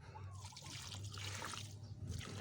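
Water pours steadily onto the soil of a potted citrus plant, a continuous soft trickling and splashing heard up close, with no talking.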